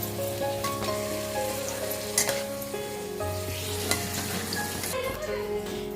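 Potatoes fry in a pan as a spoon stirs them, a steady close sizzle with occasional scraping knocks and clinks against the pan.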